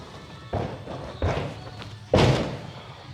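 A gymnast tumbling a round-off handspring full, heard as three heavy thuds of landings on a mat, spaced under a second apart, the last the loudest, in an open gym with no talk.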